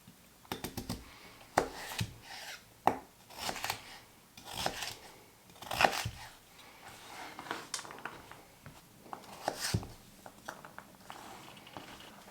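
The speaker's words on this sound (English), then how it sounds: "Now once you've got this all peeled, you just need to dice it up. I'm just going to dice these up about ½ inch." Knife dicing peeled vegetables into half-inch pieces on a cutting board for keto corned beef hash, a string of sharp, close chopping taps in uneven bursts with short pauses between.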